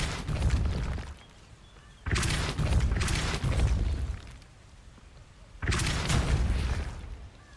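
Depulso spell casts in Hogwarts Legacy, three heavy booming blasts spaced a couple of seconds apart, each a loud burst that rumbles and fades before the next.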